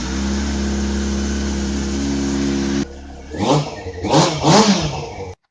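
A car engine fitted with its muffler idles loudly in a shed with a steady droning hum, then cuts to a few sharp revs that rise and fall, close and echoing.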